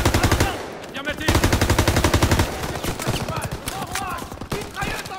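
Machine gun fire in Call of Duty WW2 rattles in rapid loud bursts, close and continuous, with shouting voices mixed in between the volleys.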